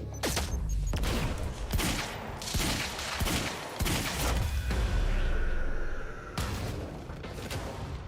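Heavy pistol fire in Quantum Break rings out as loud, close shots in a steady rhythm, roughly every half second to second, over a rumbling low game backdrop.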